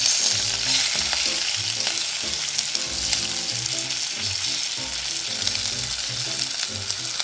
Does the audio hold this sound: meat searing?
yes